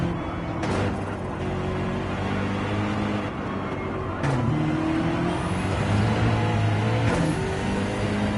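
Racing cars on soft tyres lapping a circuit in a racing video game, engines droning steadily with rising and falling pitch as cars pass and accelerate, fairly loud and continuous.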